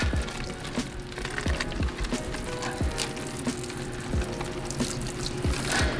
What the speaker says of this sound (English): I'm gonna slowly pour the hot water